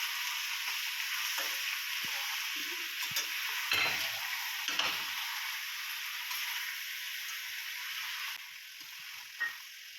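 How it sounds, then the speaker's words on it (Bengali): Chicken pieces with potatoes and onions are stirred and fried in a pan for a chicken and potato curry, giving a steady bright sizzle with scattered spatula scrapes and knocks, the hiss easing slightly near the end. "ভালো করে নাড়াচাড়া করে মাংসটা খুব ভালো করে কষতে হবে"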